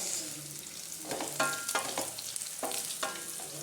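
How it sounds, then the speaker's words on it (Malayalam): Chopped cauliflower sizzles in a frying pan under a soft steady hiss, with several close scraping strokes of a spatula stirring it at irregular intervals. "ഇത് നന്നായിട്ട് ഒന്ന് ഇളക്കി കൊടുക്കണം"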